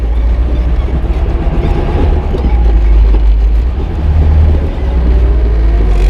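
1977 Toyota Celica under way, a loud, steady low engine rumble and road drone from inside the cabin, rising slightly in strength toward the end.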